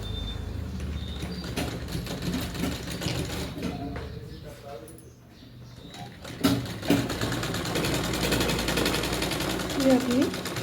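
A sewing machine runs slowly and gently while sewing a dart on a katori-cut blouse, a soft steady whir that dips briefly midway, with a voice talking over it.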